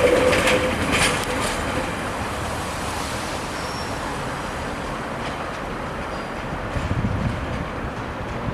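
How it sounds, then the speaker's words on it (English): Class 142 and Class 153 diesel passenger trains passing in West Yorkshire, a steady rumbling roar with clattering wheels heard from trackside at moderate distance, swelling slightly near the end, with no talk. "That class 142 and the 153, that's going to Goole."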